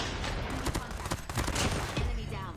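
Rapid gunfire from a gun in the mobile shooter Call of Duty Mobile, dense overlapping shots sustained across the moment, loud and close, with faint game noise underneath.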